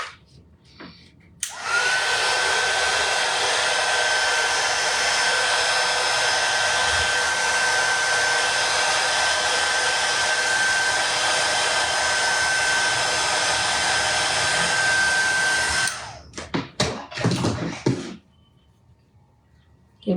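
A hair dryer blows loud and steady at close range for about fourteen seconds to dry paint on a wooden scarecrow sign, switching on abruptly and cutting off, followed by brief handling rustle.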